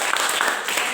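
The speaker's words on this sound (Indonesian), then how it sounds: "Ya, tepuk tangan." Classroom clapping from a group of pupils, a brief burst of dense, steady hand claps filling the short moment at moderate loudness.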